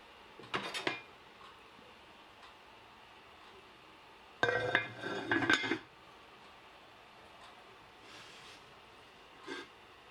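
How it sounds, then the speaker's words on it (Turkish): A few metallic clatters from a pot lid being set down and adjusted, one short clink early and a longer rattling burst midway, in a quiet room. "Şimdi tenceremin kapağını kapatacağım"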